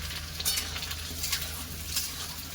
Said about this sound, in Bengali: এবার আমি আলুগুলো সব দিয়ে দেবো, দিয়ে ভাজা ভাজা করে নেব, লাল লাল করে ভেজে নেব